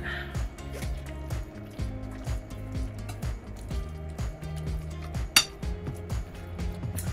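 Vegetables being mixed into a creamy ranch chicken, broccoli, bacon and pasta casserole in a dish: a steady run of spoon clinks and scrapes against the dish, with soft squishing underneath and one sharper knock near the end.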